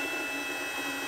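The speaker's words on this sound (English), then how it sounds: "I'm just going to drill out the center of this rivet." A power drill running steadily, boring a 1/8 inch pilot hole through the center of a rivet on a Silverado hood, a continuous loud whine with no pauses, close up.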